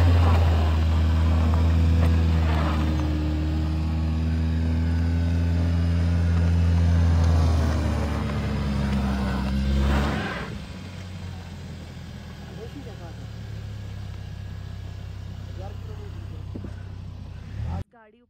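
A Hyundai Creta Turbo engine labours loudly on a snowy mountain road in Spiti, a steady low drone that eases off partway through while the car struggles to climb, with people talking over it.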